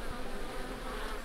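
Bees buzz around a beehive in the Lumberjack's Dynasty PC game, a short, steady, even hum with no voices over it.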